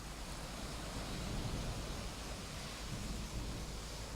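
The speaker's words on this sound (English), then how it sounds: "we're going to add daytime thunderstorm" A relaxation app plays a mix of a daytime thunderstorm and a beach, a continuous broadband rush of rain and low rumble blended with surf, steady and moderately loud.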